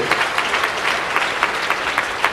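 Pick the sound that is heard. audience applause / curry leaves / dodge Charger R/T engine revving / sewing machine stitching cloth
audience applause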